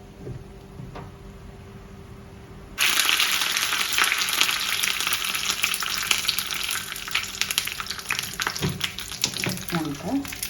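Curry leaves dropped into hot oil for a sambar tempering burst into a loud, steady crackling sizzle after a quieter start, with a few clinks near the end.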